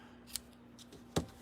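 Scissors snip streamers on an Easter craft bow, two quick close cuts with a quiet pause between, the second one louder, in a quiet room.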